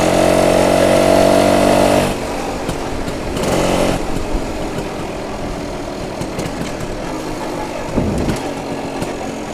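A 1967 BSA Bantam D10 175 two-stroke motorcycle engine runs loud and close while riding, revving hard at first and then dropping to a steadier, lower drone with a brief surge midway and another near the end.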